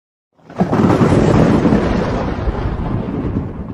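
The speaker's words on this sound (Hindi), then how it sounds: "छत पे सोने आओ तो बारिश पड़ने लगता है, बादल गरजने लग गया।" Thunder rumbles during a rainstorm, one loud close crack that swells into a long, deep rolling growl, slowly fading, with no voices.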